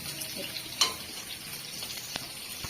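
Leafy greens frying with onion and garlic in a village kitchen, a quiet steady sizzle broken by a couple of sharp stirring clinks from the pan, no talk.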